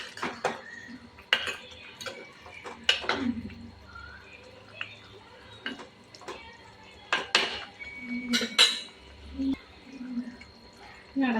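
A pot of red chilli fish curry is stirred and then covered, with a series of sharp metallic clanks and scrapes against the pot and some watery sloshing, while someone talks throughout.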